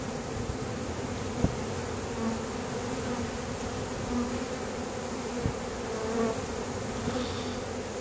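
Swarm of honey bees buzzing as it is shaken into a five-frame nucleus hive, a dense, steady hum of many wings close by, with a few faint knocks of frames and no talking.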